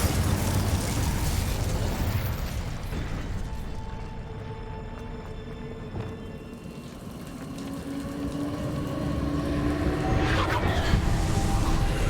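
An Incendio fire spell cast in a Harry Potter video game, a roaring, whooshing burst of flame that swells, dips slightly in the middle and surges again toward the end.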